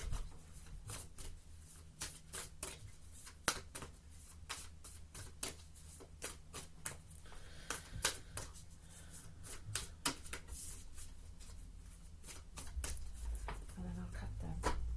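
Rapid riffling and tapping of a tarot deck being shuffled, repeated bursts of crisp flicks at close range, no talking.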